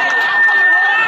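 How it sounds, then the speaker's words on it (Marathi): A dense festival crowd claps and cheers at a Govinda human pyramid in the Konkan, a loud, close wash of voices filling a brief moment. "टाळ्या वाजवा एकदा. सगळ्यांनी टाळ्या वाजवा"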